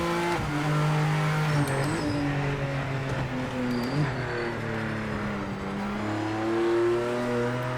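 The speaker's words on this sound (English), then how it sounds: "I love the way this car sounds, I really do." GT3 race car engine in the video game Project Motor Racing, droning and shifting pitch as it revs up and down, steady and close, with no voices.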